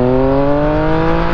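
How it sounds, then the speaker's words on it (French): A motorcycle with a rising harmonic engine note, accelerating gently in second gear up a hill, loud and close and continuous throughout. "Ici je suis en côte, je suis en 2e et j'accélère un peu."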